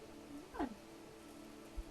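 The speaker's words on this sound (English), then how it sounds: "See if I can coax a kitty onto my lap here." A cat gives one short, faint meow indoors at a lap, brief and soft against a quiet background.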